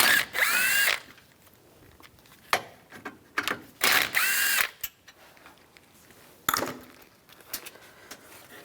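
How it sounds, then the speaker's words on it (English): A ratchet with a 10mm socket backing out fan shroud screws on a 1997-2001 Honda CR-V, in loud bursts of rapid clicking between pauses and scattered metallic knocks, close up. "Take these two screws out."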